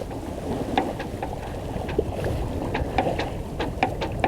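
A sailboat moves quickly through the water off Inchmarnock on Scotland's west coast, with continuous hull wash and wind rush and scattered splashes and slaps.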